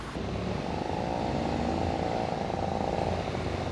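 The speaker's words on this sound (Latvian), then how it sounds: "Ar motoru rūkoņu, karogiem rokās un dažādi izpušķoti iesākās Vālgales pagasta svētki." Motor vehicles rev and drone continuously during a motorized ride opening a rural parish festival in Latvia, a steady loud engine roar with no pauses and no talking.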